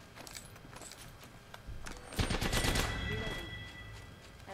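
Video game gunfire from a champion enemy in a zone-escape shooter, a burst of rapid shots swelling loud in the middle and then trailing off, with no talk over it.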